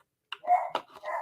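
Two quick, close dog barks or yips from an indoor pet pestering its owner, sharp and loud against a silent background.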